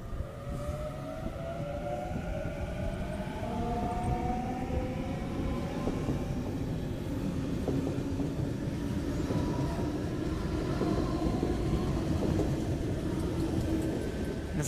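A Sydney Waratah electric train departing St Peters station, with the rising whine of its traction motors climbing in pitch over a steady rumble of wheels on track, fairly close and continuous.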